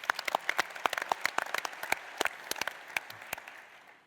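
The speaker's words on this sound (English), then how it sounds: "I'd like everybody to applaud that" Audience applause at a health technology conference fills the room, a steady patter of many hands clapping at moderate distance that gradually fades out.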